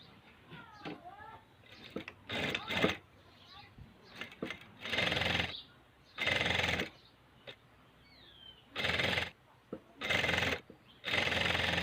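A sewing machine stitches a homemade fabric apron in short, loud bursts of about a second each, separated by pauses and someone speaking between runs.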